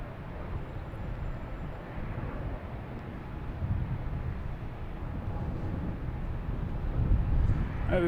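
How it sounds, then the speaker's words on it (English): A Delta airliner from Columbus approaches to land at Boston Logan at night, a faint, steady distant engine rumble that swells slightly toward the end amid light wind noise. "we have a Delta coming in"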